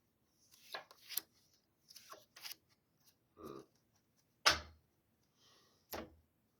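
Tarot cards shuffled and drawn in a few separate bursts: short riffling flicks and snaps, a couple of soft slaps as cards land, and a sharper crisp snap near the end, all close and fairly quiet with no talking.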